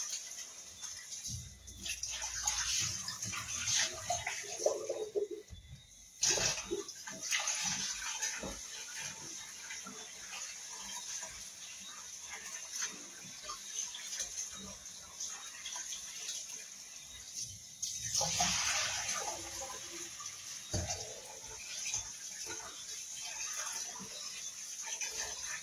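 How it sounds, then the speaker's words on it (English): Rice being washed by hand in a big bowl of water, with sloshing, swirling and rubbing grains continuing steadily, close up, broken by short pauses and a brief drop near the middle. "Wash your rice till the water clear."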